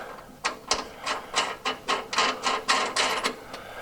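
A ratchet tightens a nut on the rear suspension of a 1979 Chevrolet C10, giving about a dozen close, crisp clicking strokes in a steady rhythm, with no talking.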